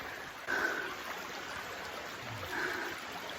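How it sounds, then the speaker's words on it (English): Creek water runs steadily beside a walking trail through burned-out ground, a soft continuous rushing trickle heard close by with no talking over it. "can you hear the creek?"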